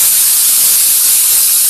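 A paint spray gun set to about 30 PSI of air pressure sprays thick coating once the trigger is pulled, giving a loud, steady hiss of air and atomised paint that runs unbroken and alone.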